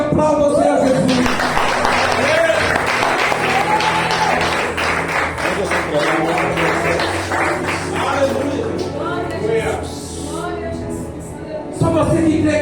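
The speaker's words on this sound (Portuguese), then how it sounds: "Levanta a sua mão e aplauda o Senhor Jesus." A church congregation claps and cheers in praise of Jesus, a dense sustained wash of applause with voices rising over it and singing or shouting tones throughout, dipping briefly near the end before swelling again.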